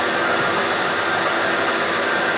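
A milling machine taking a light finishing spring pass across a metal surface, producing a close, loud, unbroken broadband whir for the whole stretch.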